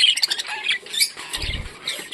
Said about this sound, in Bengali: স্প্যাঙ্গেল রেনবো বাজিকার পাখি